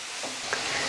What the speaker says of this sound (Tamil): ஸோ இது நல்லா வதங்கட்டும்.